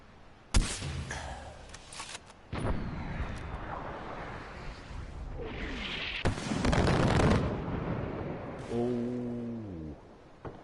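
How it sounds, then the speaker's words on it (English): Mortar rounds and gunfire in Far Cry 4 boom out in sharp, loud blasts, with one early bang followed by sustained rumbling impacts and a later burst, all set against continuous game noise with no speech. "Who is launching the mortars?"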